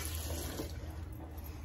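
A faucet runs steadily and softly into a sink while makeup is washed off skin, with a continuous gentle splashing and no talking.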